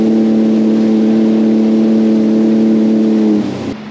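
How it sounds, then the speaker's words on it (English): Engines of an old lake freighter idling while it waits at a lock, a loud, steady low harmonic drone held close for several seconds before it drops off and fades at the end. "Engines are running, it's waiting to go up the lock"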